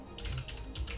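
Quick typing on a computer keyboard, a flurry of close, light clicks in two short bursts over about a second, with no talking.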